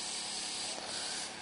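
Airbrush spraying blush makeup, a steady close hiss of fine mist running continuously without pause, broadband and even in loudness, with no talking.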